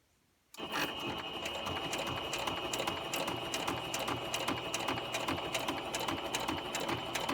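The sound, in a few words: sewing machine stitching fabric panels slowly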